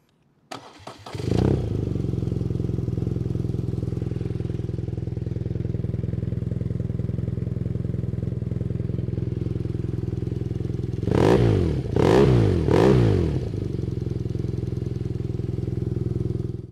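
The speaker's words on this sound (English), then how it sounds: "to improve the depth of the exhaust sound" A BMW R NineT motorcycle with dB killers removed from its exhaust starts up and idles with a deep steady rumble, then three sharp throttle blips rev it up close and loud.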